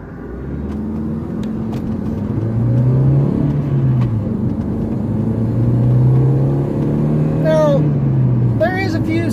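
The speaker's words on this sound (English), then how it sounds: "here comes another car flying over the hill on the side that I need to be on" A car speeds over a nearby hill on a rural road, its engine hum swelling and holding steady for several seconds, heard from inside another vehicle, with a few faint squeaky chirps near the end.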